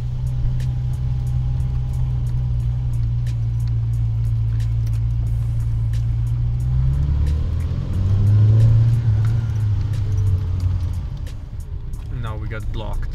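A straight-piped Skoda Favorit car engine idles with a loud, steady low rumble, then revs up sharply and falls back before settling. A person's voice is faintly present.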